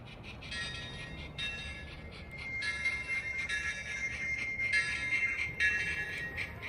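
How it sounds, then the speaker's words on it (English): A model train on a mining-themed layout runs along a reverse loop, a steady faint rolling rumble with high metallic wheel squeals and light clicking, continuous and alone. "our train will take the new reverse loop leading back to Calico Station"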